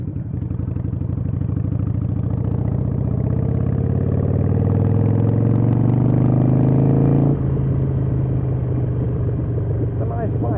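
A Harley Davidson Iron 883 motorcycle ridden on the road, its engine droning loudly and close as revs climb steadily, then dropping sharply with a gear change before settling back into a steady rumble.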